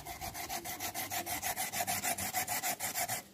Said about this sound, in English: So this is me basically just doing the old school style of grating the potatoes.